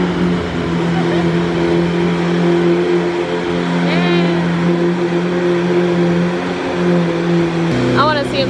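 Lamborghini Aventador engine running close by with a steady low drone that drops in pitch near the end, while people talk over it.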